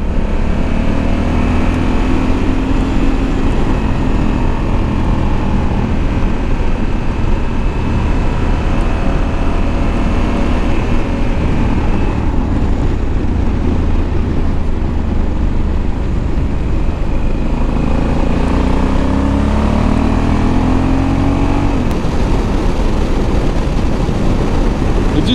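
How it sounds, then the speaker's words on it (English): A Honda CRF1100 inline-twin motorcycle is ridden along a road, its engine droning continuously and loudly with wind noise, the revs rising and falling as it shifts and accelerates. "I love the sound of that inline twin."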